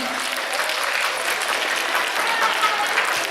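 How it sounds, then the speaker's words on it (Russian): Warm applause from children and adults at a Ded Moroz birthday celebration, honoring a little girl; steady clapping crowd, moderately close, continuing evenly. "Аплодисменты нашей маленькой девочке."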